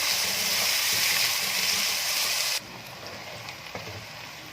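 Finely chopped onions frying in a pan for a Chinese daal mash chicken dish, a loud, close, dense sizzle that drops sharply partway through to a quieter, steady frying crackle with occasional small pops.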